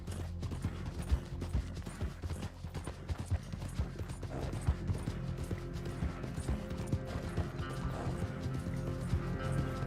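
Horse galloping in the video game Red Dead Redemption 2, a steady rhythmic clip-clop of hooves running on without pause over a low, busy game soundscape of creaks and mechanical rattles.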